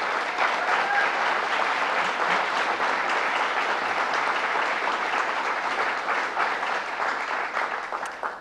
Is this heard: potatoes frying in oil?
no